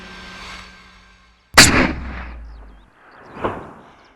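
A single loud hunting rifle shot fired outdoors, a sharp crack followed by a long rolling echo, with a fainter distant boom a couple of seconds later.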